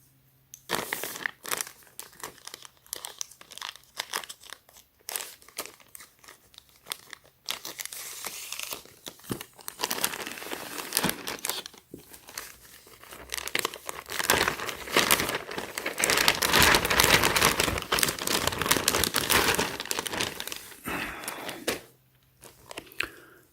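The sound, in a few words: unwrapping a Supreme t-shirt from plastic packaging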